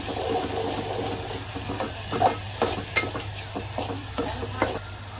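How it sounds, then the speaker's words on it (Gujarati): Chili, salt and turmeric being stirred into a wet gathiya curry in a pan: faint gentle sizzling with soft, irregular scraping and sloshing strokes of a spoon, close and quiet. "મરચું, મીઠું અને હળદર આ બધું મિક્સ કરીને આની અંદર આપણે એડ કરશું. એડ કરી દઈએ ને કરી નાખીએ અને મિક્સ."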